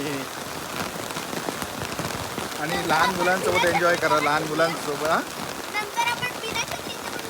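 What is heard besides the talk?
heavy rain falling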